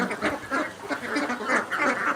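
A sick duck with leg paralysis quacks while being hand-fed grain feed, giving a steady run of about six or seven close, raspy quacks in quick succession with no pause and no talking.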